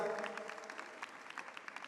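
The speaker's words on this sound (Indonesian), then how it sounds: "Boleh kita berikan tepuk tangan sorak-sorai bagi Tuhan kita yang luar biasa" A church congregation at a Christian conference claps and cheers, a steady patter of applause continuing with scattered sharper claps, moderately distant and filling the hall.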